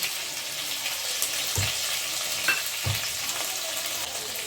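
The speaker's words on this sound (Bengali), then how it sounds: "আদা বাটার পরে আমি একটুখানি জল দিয়ে দিচ্ছি।" Ginger paste sizzles in a pan over a low gas flame as a little water is added, making a constant loud hiss and crackle with a couple of soft stirring knocks.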